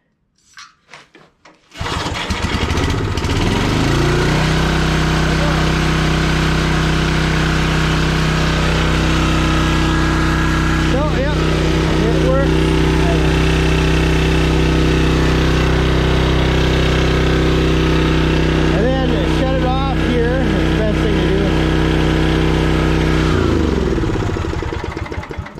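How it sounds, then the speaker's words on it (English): A Briggs & Stratton engine on a Generac generator catches after a short pull and then runs loud and steady at a constant drone, close by, for over twenty seconds. "we're going to pull this, turn thing on, and we're going to prime it for about 1 second. And then we're going to pull it."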